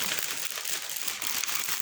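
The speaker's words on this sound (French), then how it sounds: "Je mets le papier" Sheets of printed paper are handled up close, giving a continuous dense crinkling and rustling with no gaps and no talk.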